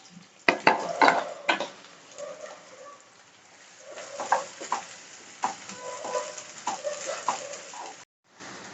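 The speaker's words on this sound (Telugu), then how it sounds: "ఈ ఆయిల్లోకి పెద్ద ఉల్లిపాయలన్నీ వేసుకోవాలి" Large sliced onions frying in a couple of spoons of oil for prawn curry, intermittent sizzling with clattering stirs of a spoon, and soft bird coos in the background.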